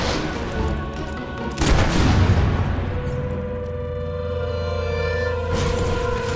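Gunshots ring out in the video game Fable 3, a sharp loud blast followed by ringing, booming decay, with further shots and a continuous game score underneath.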